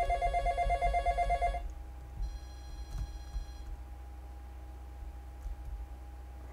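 Telephone ringing in the Final Fantasy VII video game: a repeated electronic bell-like ring in two bursts, bright and steady over a low game background hum, with no talk.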